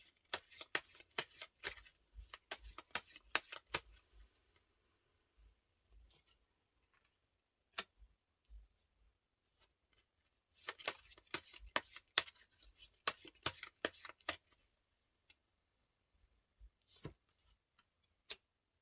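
Tarot cards being shuffled by hand in two bursts of rapid, crisp riffling flutters, separated by a quieter stretch of sparse light taps and card handling, close and soft with no talking.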